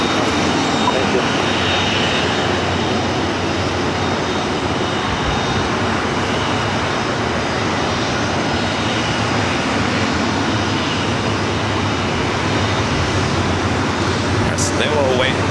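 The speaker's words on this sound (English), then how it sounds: "the 777 freighter heading to Guangzhou continues down to 7 left for takeoff" A Boeing 777 freighter at LAX taxis for a takeoff toward Guangzhou in rough weather, a loud, steady jet-engine roar and broadband rumble that holds throughout, with a faint sharp tick near the end.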